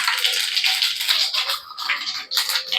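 Fennel seeds crackle and sizzle in hot oil in a pan, a close, bright, fizzing hiss that flickers unevenly throughout.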